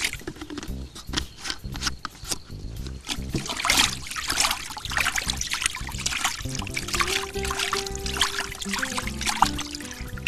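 Flavoured water trickles and splashes as it is poured gradually into dry fishing groundbait, with wet dribbling, stirring noises and a soft, sustained pouring stream close by.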